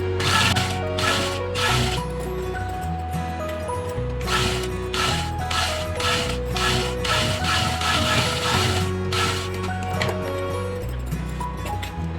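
A sewing machine stitches fabric right beside fusing on a neck and sleeve piece, running in loud, repeated mechanical bursts with short pauses between, close up and continuous, with no voices.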